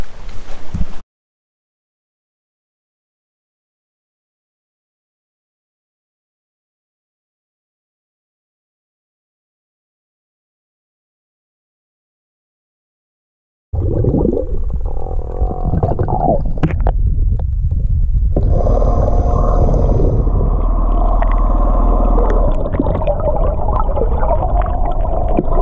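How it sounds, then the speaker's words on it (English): A Minn Kota Maxxum 65 lb trolling motor runs in the water from a Tracker Pro 170 boat after a long silence, giving a loud, steady churning hum with gurgling water that continues to the end. "Said I was gonna come out here and test out this trolling motor."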